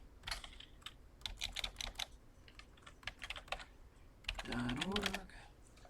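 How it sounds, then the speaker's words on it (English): Typing on a computer keyboard to enter a web address into a browser: light, rapid key clicks in short bursts, close and fairly quiet, followed by a brief murmur of speech near the end. "if I come up here now and I type in CMC library.org"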